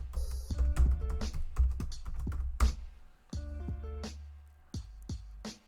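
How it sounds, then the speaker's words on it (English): Password being typed on a computer keyboard during a Linux CentOS 8 SSH login, heard as bursts of close, crisp key clicks with brief pauses between runs of keystrokes. "So let's type the password."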